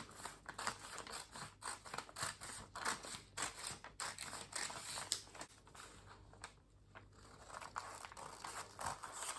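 Scissors snip through a paper bodice pattern in quick, repeated crisp cuts with rustling paper between them, close by but fairly quiet.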